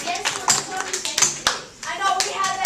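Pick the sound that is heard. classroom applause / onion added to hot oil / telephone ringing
classroom applause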